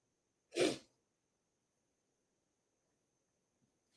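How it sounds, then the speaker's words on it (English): A single sharp sneeze bursts out early, close and fairly loud, then near silence follows in a quiet room. "I'm gonna sneeze"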